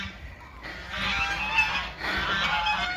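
Several geese honk loudly and continuously nearby, their harsh calls overlapping in two long bursts.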